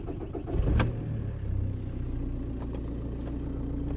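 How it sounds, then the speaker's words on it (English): A Volkswagen Golf 1.9 TDI (BXE) diesel with a long-cranking, hard-starting fault cranks, catches and settles into a steady, low idle, heard close in a quiet setting. "Let me start the engine."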